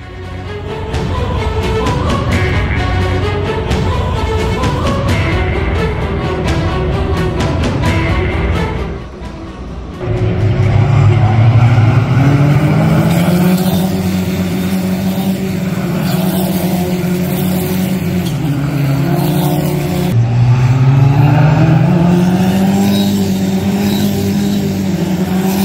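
Sprint Funio race cars, low-slung with plastic bodywork, race at the Pau Grand Prix street circuit; loud engines rev and climb through gears continuously, with a brief dip before another sustained pass.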